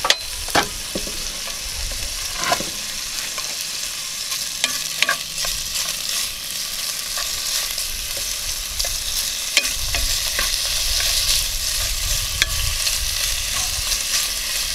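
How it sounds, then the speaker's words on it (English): Bacon sizzling and frying steadily in a Dutch oven, close and continuous, with occasional scraping and stirring clicks and no talking. "cooking the bacon into the pan like this also helps season the Dutch oven"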